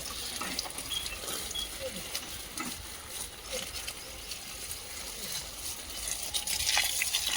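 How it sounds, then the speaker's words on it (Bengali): Water running from a thin pipe onto a white eggplant plant: a faint, steady splashing hiss that carries on evenly throughout and swells slightly at the end. "সাদা বেগুন গাছটা এবার লাস্টে জল দেওয়া হচ্ছে"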